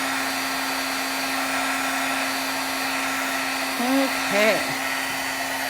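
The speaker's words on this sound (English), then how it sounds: "I don't like to wiggle my gun overly much. I like to kind of do it more steady when I'm embossing." A heat embossing gun blows hot air steadily onto a card, a constant close whooshing hum with a faint tonal whine, while a voice briefly speaks near the end.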